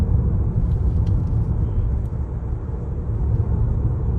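Steady low engine drone from a Hyundai Kona hybrid's Atkinson cycle engine while driving, with broad road rumble inside the cabin, continuous and moderately loud with no talking.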